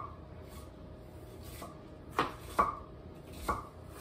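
A knife chops an onion and bell pepper on a cutting board in a home kitchen, four or five sharp, irregular thunks over a quiet room background, close by, with no talking.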